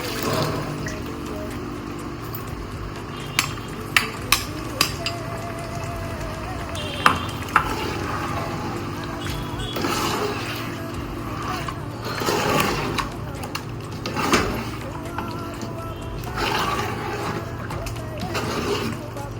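Green paste of green chili, mint and coriander frying in a pan for mutton biryani, with a steady soft sizzle, scraping stirs and a few sharp utensil clicks, close by and without talk.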